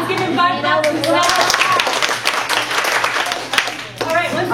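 A group of children clap together in quick bursts, with loud voices of adults and kids talking over and between the claps in a classroom.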